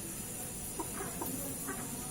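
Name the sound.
Bangkok chicken with snoring, rattling breathing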